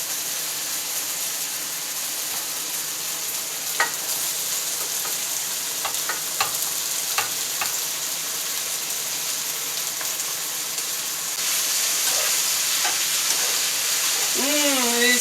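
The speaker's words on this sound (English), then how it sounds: "I'm going to go ahead and add my vegetables to this." Vegetables frying in a pot for pork carne guisada, a steady close sizzle with scattered utensil clicks and scrapes, the hiss swelling louder near the end.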